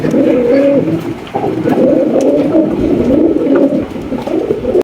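Archangel pigeons coo steadily and loudly up close, several birds overlapping in a continuous, rolling murmur of low throaty calls with no talking.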